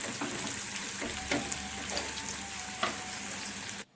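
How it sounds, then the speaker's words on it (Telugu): Chicken pakoda pieces sizzle in hot oil, a steady soft crackling hiss with faint popping, fairly quiet and without talk, cutting off abruptly at the end. "ఆయిల్ మంచిగా హీట్ అయిన తర్వాత మనం చికెన్ పకోడీని అందులో వేసుకొని"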